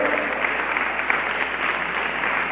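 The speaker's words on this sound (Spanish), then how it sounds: "Dele fuerte un aplauso al que vive." Brief burst of congregation applause during a church sermon, dense steady clapping at moderate level with a few sharper individual claps standing out.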